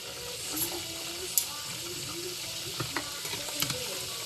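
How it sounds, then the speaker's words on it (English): Meatballs for Sunday gravy are flipped in a frying pan, with steady sizzling, sharp clinks of the utensil and crackling spatters, fairly close and moderately loud. "So let's flip these meatballs."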